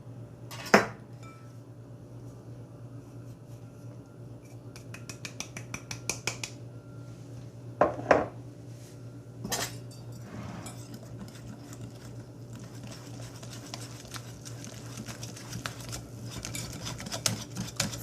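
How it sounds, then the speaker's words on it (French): A utensil mixes yeast, warm water and flour in a bowl to make Turkish bread dough. Soft scraping is broken by occasional sharp clinks against the bowl, with a low steady hum in the background and no voices. "je mets la levure de pain avec l'eau tiède et la farine et je mélange bien"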